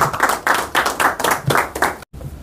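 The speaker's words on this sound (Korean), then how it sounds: "박수로 한번 환영해 주십시오" A small audience at a university emeritus professors' lecture gives rhythmic applause to welcome a former university president, clapping in close, pulsing bursts that stop abruptly, followed by a quiet room.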